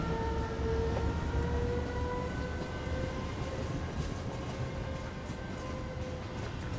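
The Karnavati SuperFast Express, hauled by a WAP7 electric locomotive between Mumbai Central and Surat, rumbles steadily along the track with a loud, continuous rolling roar and faint rhythmic wheel clatter, with no one talking.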